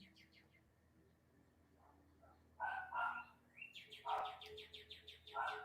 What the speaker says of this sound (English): All I hear is birds and dogs and just wildlife outside.